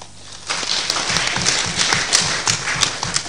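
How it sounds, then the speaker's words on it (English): A workshop audience gives the session chairs a round of applause, rising quickly into a full, steady clatter of many hands clapping nearby with distinct individual claps standing out. "give them a big round of applause"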